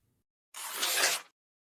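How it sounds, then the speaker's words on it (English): A paper tear sound effect: a single quick, crisp rip lasting under a second, close and alone against silence. "I'll choose this sound effect called Paper Tear 2"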